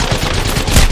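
Rapid automatic gunfire in the Apex Legends video game, a loud dense burst of shots filling a brief moment.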